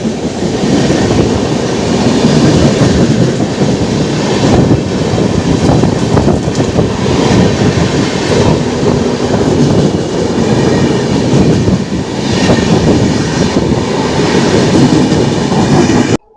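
A Santragachi–Jhargram MEMU passenger train runs steadily on rails, giving a loud continuous rumble with rhythmic wheel clatter throughout and no voices.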